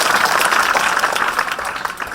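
A school audience at a science awareness event claps loudly together, a thick, continuous burst of many hands, close and steady for a couple of seconds with a faint dip near the end.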